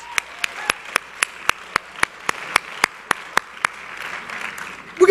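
Applause at a Reform Judaism biennial forum: a steady run of about fourteen sharp, evenly spaced claps stands out over a softer wash of crowd clapping that swells toward the end.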